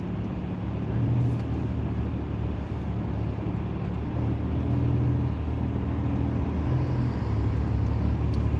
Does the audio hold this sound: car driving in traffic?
yes